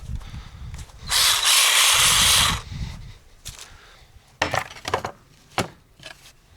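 A loud burst of a cordless saw cutting through a wooden board for about a second and a half, followed by scattered knocks and handling sounds.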